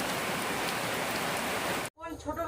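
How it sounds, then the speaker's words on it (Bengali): Heavy monsoon rain pours down in a dense, loud, steady hiss on surfaces outdoors, then cuts off abruptly near the end as another faint sound begins. "আজকেই মনে হচ্ছে বন্যা হয়ে যাবে এত পরিমাণ বৃষ্টি হচ্ছে"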